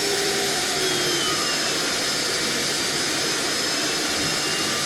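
Jet airliner engines roar at high thrust during a takeoff roll in an airport simulation game, a loud, continuous whine and rumble that holds steady with no voices.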